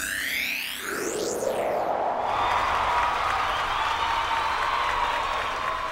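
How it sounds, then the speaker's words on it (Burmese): An audience clapping sound effect in a mobile music-making app: a dense, sustained wash of applause and crowd cheer with a reverberant sweep, steady and loud for several seconds. "မာပရိသတ်လက်ခုပ်တီးတဲ့အတန်းနေ"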